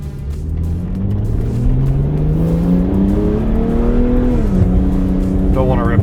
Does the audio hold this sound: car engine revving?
yes